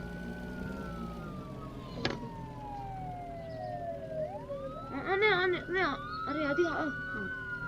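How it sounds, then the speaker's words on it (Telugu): A police car siren in the Roblox video game wails in long sweeping rises and falls, then switches to a fast warbling yelp, loud and close, while a player talks briefly over it. "సైరన్ ఆన్ చేస్తాను"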